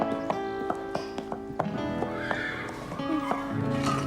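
A horse arrives with sharp clip-clop hoofbeats tapping in a steady rhythm and then a drawn-out whinny near the end, close and moderately quiet, with a brief voice in the background.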